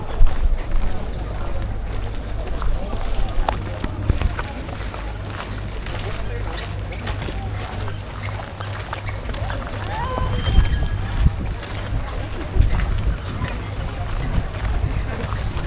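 A ship underway carries a steady low engine rumble and wind noise, heard from aboard at sea near Pangkal Pinang, with scattered clatter and voices talking throughout.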